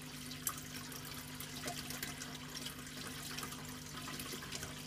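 Aquarium water sloshing in waves driven by a Maxspect Gyre pump, a soft continuous watery wash over a low steady hum from the pump, faint and even throughout with no voices.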